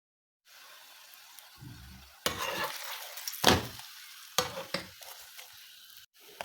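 Layered chapati cooking on a hot pan, with soft sizzling and scraping, several sharp bursts as the flatbread is pressed or turned, heard up close with no talk.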